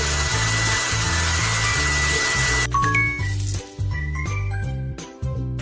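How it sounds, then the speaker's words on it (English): Hair dryer in the game Pony Sisters Hair Salon 2, a loud steady whooshing blow for about two and a half seconds that cuts off into tinkly chimes and a looping bouncy game tune. "Now let's use a hair dryer."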